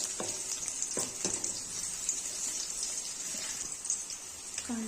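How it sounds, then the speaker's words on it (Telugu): Green chilies and curry leaves frying in oil give a steady crackling sizzle with sharp pops and spits scattered across it, heard close up and without voices. "కరివేపాకు కూడా వేసి ఫ్రై చేసుకోవాలి."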